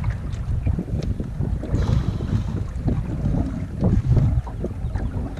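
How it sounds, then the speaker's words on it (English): Gusty wind buffets the microphone on an island shore while waves wash and slosh nearby, a loud, rough, continuous roar with surging swells and no talking. "Waves are kicking up, the wind's kicking up."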